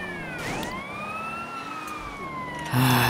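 Police car siren in GTA San Andreas Definitive Edition, a steady wailing tone that rises and falls smoothly and continuously over a few seconds, loud and close, ending in a brief burst of engine or crash noise.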